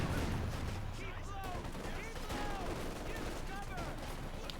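Sturmgewehr 44 assault-rifle fire in Company of Heroes 2, a World War II strategy game, crackling as scattered bursts amid battlefield noise, fairly faint and mixed into a busy combat soundscape.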